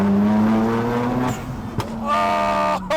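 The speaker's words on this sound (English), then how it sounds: "That turbo spool that you've got on it" A Mazda FD RX-7 engine drones steadily with a rising whistle of turbo spool, then a sharp chuff and brief whoosh before the revs settle.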